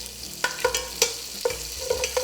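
Chopped scallions and chicken fry in a skillet, with a steady low sizzle punctuated by several sharp stirring scrapes and clatters spread across the clip, heard close up with no talking.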